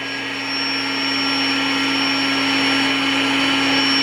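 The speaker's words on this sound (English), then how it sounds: "I'm going to start the deflation." The built-in pump of a SoundAsleep air mattress runs steadily while deflating it, a loud continuous motor whine and airflow hiss, close and unbroken.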